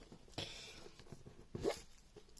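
Handling and opening a watch box for a Rotary Watchnation Super 7 Pepsi watch: two short rustling, scraping bursts of lid and packaging, close and quiet, with no talk.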